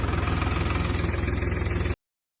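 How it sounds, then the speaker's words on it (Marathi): Tractor engine idling on a farm: a steady, loud, low diesel throb with a regular pulsing chug, running close by, then cutting off abruptly near the end, no talking. "मित्रांनो आपला मित्र आलेला आहे ट्रॅक्टरवर"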